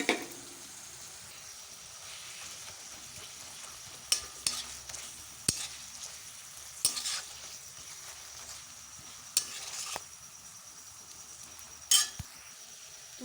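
Spice paste for a ridge gourd and potato dish being stirred and sautéed in a pan: a soft, continuous low sizzle with scattered sharp scrapes and clinks of a spatula against the pan, no talking.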